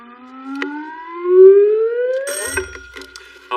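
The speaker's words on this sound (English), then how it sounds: "Fingers on buzzers, teams." A quiz show buzzer or spinning sound effect on a television panel game, a loud rising electronic tone sweeping upward, then a brief burst of bell-like ringing and clatter.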